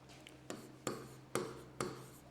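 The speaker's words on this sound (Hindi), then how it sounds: "उनका नाम लिख देते हैं" A name being written on a classroom board, with short scratchy strokes roughly every half second over a low steady hum, quiet and close.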